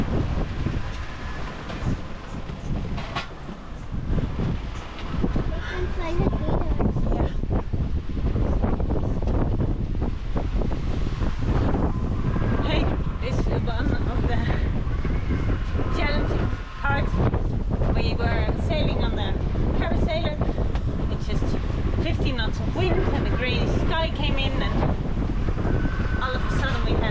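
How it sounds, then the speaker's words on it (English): Strong wind roars across a sailboat on the open Pacific, gusting up to 35 knots while flying a parasailor downwind; dense, steady buffeting with wind noise hitting the microphone and water rushing beneath, loud and continuous throughout. "gusting up like until 35 knots of breeze with the parasailer on"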